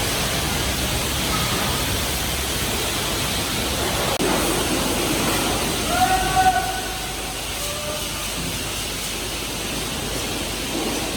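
A truck trailer washed down with a pressurized water spray, a steady loud hissing rush throughout, with a brief rattling clatter midway and no talk.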